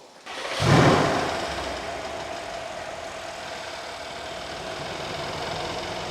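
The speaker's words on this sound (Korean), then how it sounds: "시동 걸어봐" A Mercedes-AMG engine with a misfire cranks and fires up with a loud burst, then settles into a steady, rough idle that carries on close and alone for several seconds.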